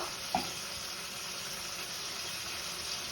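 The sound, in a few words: tomato and ginger sautéing in a pan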